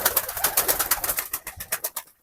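Tumbler pigeons coo and flutter close by in a quick, steady series of soft calls and wing beats over about two seconds.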